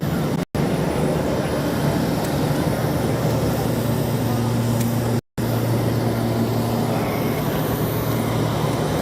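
A cargo plane's engines drone loudly and steadily at an airport while vaccine cartons are unloaded, a constant low hum with two brief dropouts in the sound.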